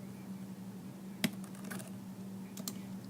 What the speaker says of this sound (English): I'm working with a keyboard here